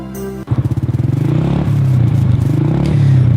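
A motorcycle engine starts and revs steadily, its loud, rhythmic pulsing exhaust note climbing and holding close by, with light clatter and no talk.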